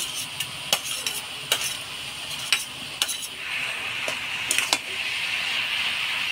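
Cabbage with green chillies and fried potatoes being stirred in a pan, repeated metal clacks and scrapes of the spoon at irregular intervals over a soft, continuous sizzle.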